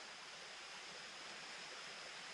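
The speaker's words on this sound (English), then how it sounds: "listen to the creek" Creek water flows steadily beside a hammock campsite while backpacking in Virginia, a broad even rushing hiss held at a constant level close by, with no voices.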